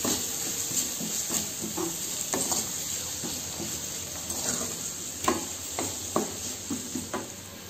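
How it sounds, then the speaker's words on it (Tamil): Ginger garlic paste and baby potatoes sauté in a hot pan, with a steady sizzling hiss and repeated scraping stirs of a spoon against the pan throughout. "அதுக்கப்புறமே இஞ்சி பூண்டு பேஸ்ட்டும் போட்டு நல்லா வணக்கிக்கோங்க"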